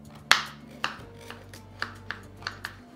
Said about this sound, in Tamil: இந்த சக்கரவள்ளி கிழங்கு பார்த்தீங்கன்னா நம்ம பொடிசாக நறுக்க போகிறோம்.